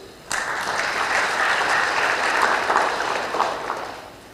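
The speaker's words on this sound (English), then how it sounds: "Thank you all. A big applause." A conference audience at a plenary session bursts into applause, steady and full for several seconds, then gradually fades.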